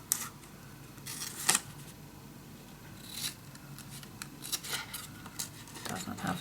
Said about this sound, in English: I'm not going to draw every time, just going to cut and till the middle.